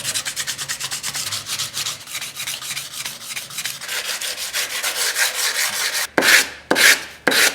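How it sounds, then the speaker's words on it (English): Steady rapid back-and-forth rasping of abrasive on the steel liners of a folding knife, continuous for several seconds, then a few slower, louder separate strokes. "Right now I'm just sanding the liners"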